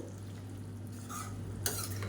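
Fried eggs are stirred into egg thokku in a pan, soft scraping and stirring over a gentle sizzle with a brief utensil clink near the end, close and fairly quiet with no talking.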